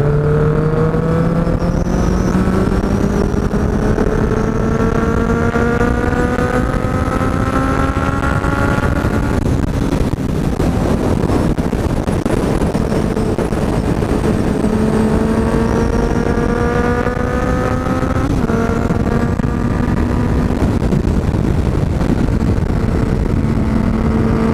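A Honda CB650F motorcycle accelerates up a winding mountain road, its engine note rising steadily through the gears with brief dips at each shift, loud and close throughout with steady wind rush and no talking.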